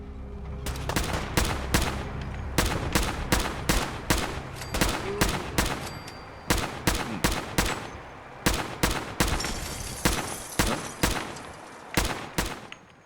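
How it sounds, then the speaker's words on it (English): Rapid, sustained gunfire from many weapons in Fallout 4's Far Harbor, loud bursts of shots repeating almost continuously with brief gaps, a dense volley of fire with no talk over it. "Defend yourselves! Ready all! Fire at will!"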